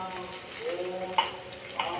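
Pieces of food sizzle in a hot pan as they are turned over, a soft continuous frying crackle broken by a couple of sharp clinks from the utensil.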